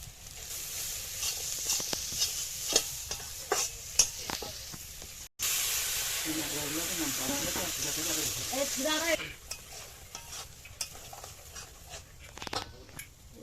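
Turmeric, chili and ground ginger frying in a hot pan with oil, a steady close sizzle with scraping stir strokes, swelling louder midway, and a voice speaking briefly over it.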